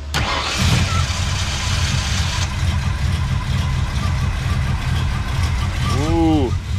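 A car engine fitted with a freshly rebuilt Edelbrock carburetor and a new ECM runs steadily up close, a loud continuous low rumble with a brief rising rev near the end.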